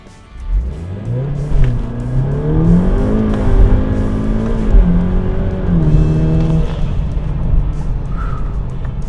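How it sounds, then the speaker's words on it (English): A 500-horsepower all-wheel-drive Volkswagen Golf R launches hard and accelerates, its engine note climbing steadily through the revs, loud and close with no talking. "The launch in this car is incredible."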